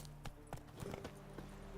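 Roach the horse walks in The Witcher 3, hooves clip-clopping in a quiet, regular rhythm of several distinct hoofbeats over a low steady background hum.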